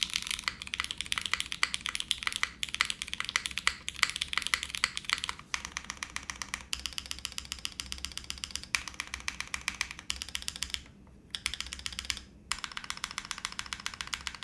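Rapid typing on a Monokei Kei v2 mechanical keyboard with a copper plate and gasket mount, dense continuous clacky keystrokes close up with a few brief pauses.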